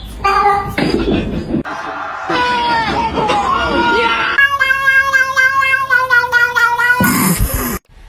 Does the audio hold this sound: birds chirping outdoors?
no